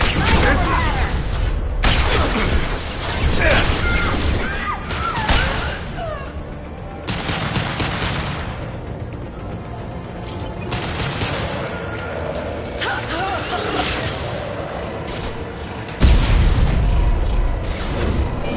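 Sustained gunfire and explosions from a Mass Effect 2 firefight, loud bursts of shooting and booms layered under scattered shouted game dialogue, with brief lulls before a heavy blast near the end.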